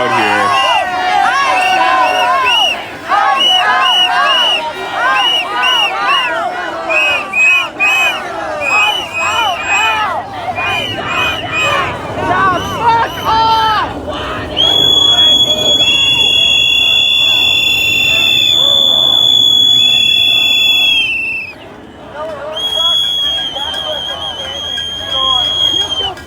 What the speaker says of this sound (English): So there's kind of a crowd here